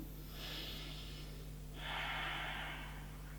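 A deep breath during a yoga exercise: a soft inhale followed by a longer, stronger exhale, close and quiet over a low steady background hum.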